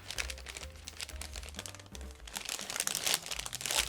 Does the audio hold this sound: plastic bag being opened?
yes